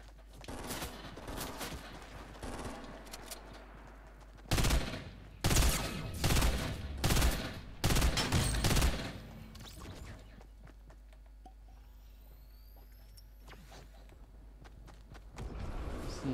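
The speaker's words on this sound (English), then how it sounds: "I'm basically dead now because I got shot from behind." Gunfire in the Fortnite Battle Royale video game: several loud bursts of shots in a cluster midway, with quieter clatter and movement sounds before and after, no talking.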